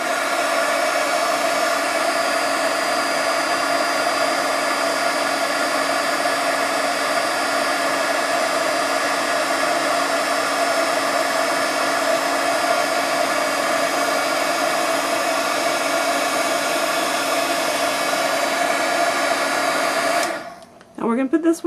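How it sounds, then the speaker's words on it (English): A heat gun runs continuously on an Accucut die-cut pumpkin piece for a craft album, a loud steady blowing roar with a thin tonal whine that cuts off abruptly near the end, leaving a few brief clicks. "you're going to be hearing the heat gun"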